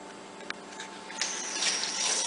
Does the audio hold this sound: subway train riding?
no